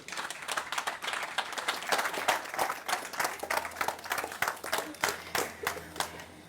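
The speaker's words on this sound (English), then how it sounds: "Give a round of applause for the Ink-redible Lauren" An audience gives a round of applause for a speaker at a talk, a steady mass of clapping that keeps up at even strength throughout.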